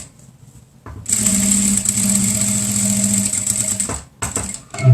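A sewing machine stitches fabric for a 3D cloth face mask with a steady, close mechanical whir that runs for about three seconds, stops, and then starts again in a short burst.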